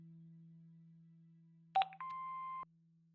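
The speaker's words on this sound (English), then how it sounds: "Hobbs's answer phone" Hobbs's answering machine in a video game clicks, then gives one steady, clean beep lasting about half a second over a low electrical hum, just before a message plays.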